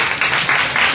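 An audience applauds at a live comedy show, dense steady clapping from a sizable crowd that stays loud and even throughout, with no voices standing out.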